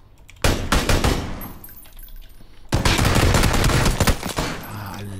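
PUBG gunfire bursts out in two long, loud, rapid automatic volleys close by, separated by a short lull, the second burst sustained and dense.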